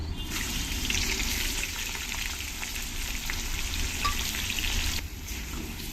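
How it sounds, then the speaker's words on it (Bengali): Chopped onions sizzle in hot oil with whole spices and bay leaves in a pan for hotel-style mutton gravy, giving a steady, close crackling hiss throughout with no talk. "এবার পেঁয়াজগুলোকে আমি ভালো করে ভেজে নেবো"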